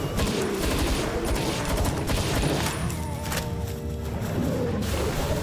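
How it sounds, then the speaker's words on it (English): Assault rifle fire in Palworld, a steady stream of rapid shots rattling continuously and fairly loud, mixed with scattered impacts and a busy game background. "I've got quite a lot of base defense of my own with this assault rifle now"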